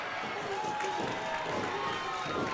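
A wrestling crowd cheers loudly and continuously during a match, a dense roar with shifting voices that holds steady throughout.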